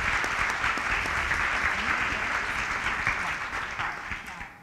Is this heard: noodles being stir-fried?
no